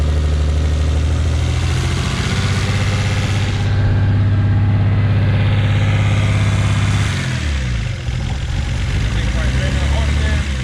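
A BMW E24 633CSi engine idles loudly and steadily close by, with a deep, even drone that wavers briefly near the end.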